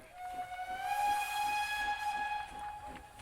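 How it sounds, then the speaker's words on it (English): A distant steam-style train whistle sounds in one long, steady hiss-edged blast, swelling slightly then holding before fading, heard alone without talk. "horn from the distance."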